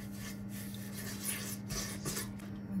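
Red curry with pineapple and chicken stirred in a cooking pan over medium heat, giving soft repeated scraping and rubbing strokes over a steady low hum, close and without speech.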